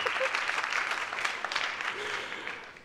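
At the closing keynote of a healthcare conference, a large audience applauds in a dense, steady burst of clapping at moderate distance, lasting a few seconds.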